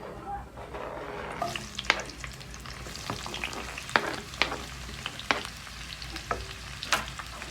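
Onions sizzle steadily in a pan for gongura chicken curry while a spoon stirs them, giving repeated sharp scraping clicks over the continuous close frying hiss.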